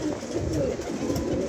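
Pigeons in a rooftop loft, soft low coos blending with steady busy background noise throughout, with no clear talking.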